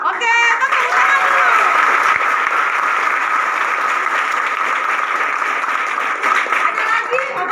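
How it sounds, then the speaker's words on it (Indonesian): A church congregation in Manokwari claps hands in sustained applause, loud and even throughout, with voices and a faint tonal sound mixed in underneath. "tepuk tangan"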